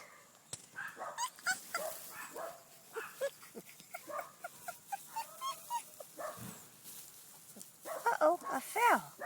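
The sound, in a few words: wolf hybrid puppies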